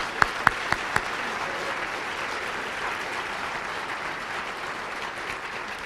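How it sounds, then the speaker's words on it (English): A town hall audience at a water planning meeting applauds, opening with a few loud distinct claps before settling into a steady, even wash of crowd clapping that carries on to the end. "So why don't we give him a round of applause, please"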